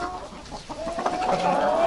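Mixed-breed hens cluck and murmur softly nearby, a low continuous chatter of birds with a thin drawn-out call rising toward the end.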